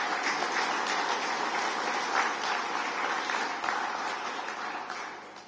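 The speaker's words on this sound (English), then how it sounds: "If we could give a round of applause to our sponsors." Audience applause at a farmers' union congress open session, a steady dense wash of clapping from a large crowd that holds level for several seconds and eases off slightly at the end.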